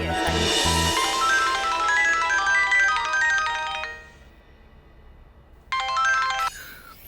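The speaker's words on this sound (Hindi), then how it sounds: "हेलो ईशाना, थैंक गॉड यार तुमने फोन किया।" A mobile phone rings with a melodic ringtone for an incoming call. The tune plays loud and close for about four seconds, stops, then briefly resumes before cutting off. No one speaks.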